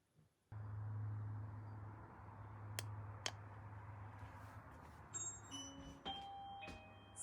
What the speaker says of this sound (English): Someone is at the front doorbell.